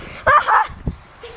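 A black dog gives a short, loud bark or two close by, a brief burst with a whine-like tail, lasting about a second.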